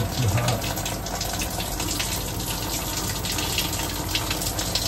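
A high-pressure RV shower head sprays water in a steady, loud, close hiss that runs throughout without a break.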